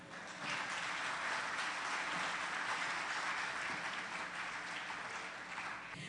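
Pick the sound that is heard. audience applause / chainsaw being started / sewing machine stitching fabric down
audience applause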